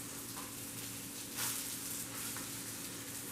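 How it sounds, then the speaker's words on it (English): Vegan Salisbury steak patties sizzle and fry steadily in a frying pan, a close, continuous crackling hiss with a brief louder flare near the middle. "So what you're going to do is you're going to brown them on both sides."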